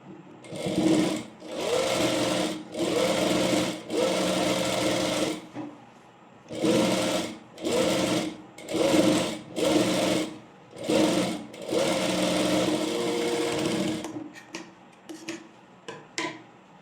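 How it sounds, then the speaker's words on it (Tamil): A sewing machine top-stitching an A-line frock runs loud and close in a series of bursts, some long and some short, separated by brief pauses, with no talking. "இப்போது நான் டாப் ஸ்டிச் போட்டு ஸ்டிச் பண்ணிக்கிறேன்"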